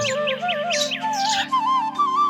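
Sparrows chirp in quick, repeated bursts close by, bright little calls layered over a steady low background tone.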